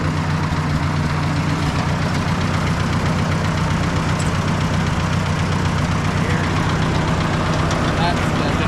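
A restored Ford 9N tractor engine idles after startup, a loud, steady low chugging with an even rhythm, continuous throughout and close by.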